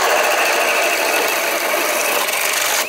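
A Bosch hammer drill bores continuously at close range, a loud, steady, dense grinding roar that holds for about three seconds without a break.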